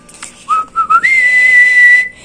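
A person whistles close by, a few short rising chirps followed by one long, steady high note that holds for about a second before stopping.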